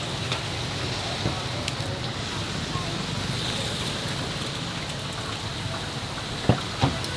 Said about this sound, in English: There's way more rain coming our way.